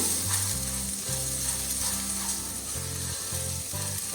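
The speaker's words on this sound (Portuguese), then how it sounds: "E aqui a gente vai fritando esse arroz até que ele fique totalmente sequinho." Rice sizzles steadily in hot oil in a pressure cooker pot, a constant crackling hiss with low scraping and clattering sounds from the pot running underneath.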